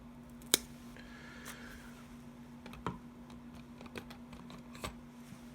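A thin stick for 1/32 F4U model wheel weathering being cut shorter with scissors, a few sharp, close snips spaced apart over a quiet steady hum, the first cut loudest.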